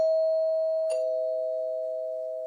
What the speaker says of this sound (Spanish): En ese momento suena el timbre